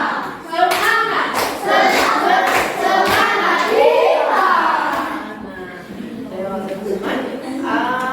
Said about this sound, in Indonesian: yuk kita tepuk semangat dulu ya. Tepuk semangat koboy